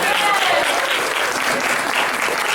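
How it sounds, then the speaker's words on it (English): An audience gives a round of applause at a talk, a dense, steady burst of clapping that fills the whole short stretch, loud and close. "Give her a round of applause."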